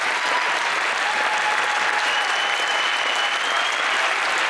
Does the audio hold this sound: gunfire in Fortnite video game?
no